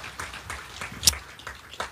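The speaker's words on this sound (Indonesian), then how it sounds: "Berikan tepuk tangan kita untuk Tuhan kita" Church congregation gives a few scattered, faint claps in a sparse, uneven patter, with a sharper single clap standing out.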